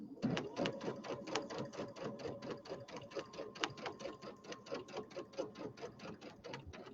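A sewing machine stitches steadily while quilting along a seam line at a 3.0 stitch length, a fast, even run of mechanical ticks that slows and pauses briefly near the middle before resuming at a constant pace.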